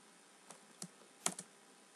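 A few sparse computer keyboard keystrokes, crisp isolated clicks spaced apart in a quiet room, with a quick pair of taps near the end.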